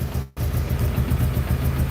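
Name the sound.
VW-engined buggy idling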